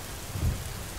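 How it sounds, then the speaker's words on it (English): Thunderstorm with rain in the horror game Slender Mansion, a steady rain hiss with a short low rumble of thunder swelling briefly in the middle, no voices. "Even the thunder and lightning is just freaking killing my ears."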